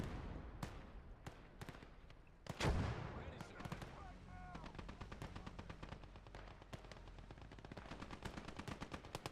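Machine gun and mortar fire in a USA versus Soviet alternate-history war strategy game: rapid bursts of automatic gunfire, a heavy boom near the start, then dense crackling volleys continuing steadily, fairly close.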